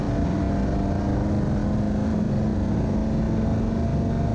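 An Ariel Atom 4 on the Anglesey circuit roars steadily under hard acceleration, a loud, continuous engine drone with a rising tone held throughout.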